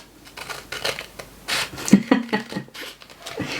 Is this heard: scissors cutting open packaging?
yes